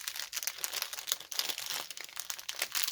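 Plastic packaging of a pre-stamped cross stitch kit crinkles close up, continuous irregular crackling and rustling as it is handled, no voices.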